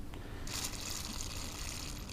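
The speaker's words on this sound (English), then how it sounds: "I'm going to spray this down with some brake cleaner." A short burst of brake cleaner aerosol spray hisses steadily for a couple of seconds, loud and close, during work on an LT4 supercharger pulley, with no talking.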